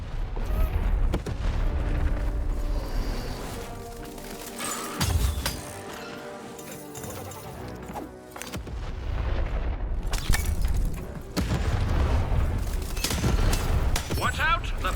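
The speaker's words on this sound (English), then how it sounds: "Shoot the button to fire the cannon." Cannon blasts in the video game Lost in Random boom repeatedly amid game effects and background voices, with heavy low thuds breaking out at intervals over a busy, continuous soundscape.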